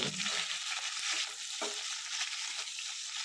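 Onion, green chilli and garlic greens sauté in a pan, giving a continuous soft frying hiss at low level with faint scraping of a spoon stirring, no voices.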